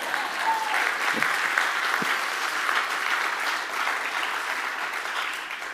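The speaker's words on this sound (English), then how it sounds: "That's worth an applause or something like that." A crowd at a campus site announcement gives steady, sustained applause, many hands clapping evenly at moderate distance with no break.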